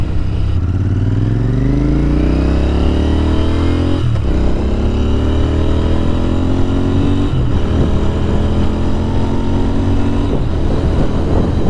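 A Royal Enfield Continental GT 650 cafe racer fitted with a new Scorpion exhaust rides past loud and close. The engine note climbs again and again through successive gear shifts, with no voices.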